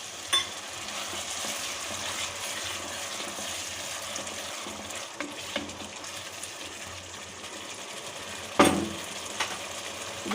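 Mutton curry frying in a pan as a little water is poured in, a steady sizzle and bubbling hiss throughout, close-up, with one sharper splash-like burst near the end and no talking.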